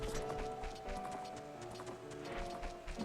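Epona's hooves clop in a steady, quick rhythm in the video game Ocarina of Time, a faint, continuous trot over low game music.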